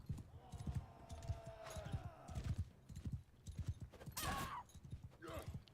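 Rhythmic horse hoofbeats clip-clop steadily through the clip in the video game Mount and Blade II: Bannerlord, mixed with game sound effects and a short whinny-like burst near the end.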